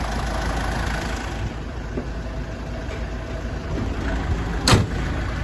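The 2.5 DI-D diesel engine of a 2010 Mitsubishi Triton pickup idles steadily with a low, continuous rumble, close by, broken once by a brief sharp click.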